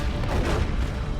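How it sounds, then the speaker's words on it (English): A frag grenade blast in the real-time strategy game Dawn of War 2, a dense, loud low boom that fills the whole short moment amid steady battle rumble. "he can still throw a frag in the retreat path"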